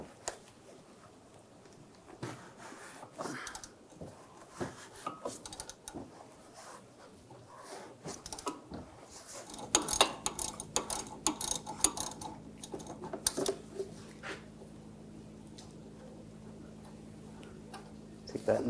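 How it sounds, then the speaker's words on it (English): A 16mm socket on a ratchet wrench backs a nut off a front sway bar link on a 2013-2016 Dodge Dart, with rapid close ticking ratchet clicks in bursts, later joined by a steady background hum. "Now using a 16mm socket, take the nut off."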